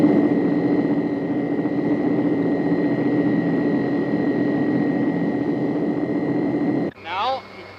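A 1950s airliner's number 2 engine drones steadily through a relight, a loud, even, close cabin hum with a constant tone that cuts off abruptly near the end before a voice speaks.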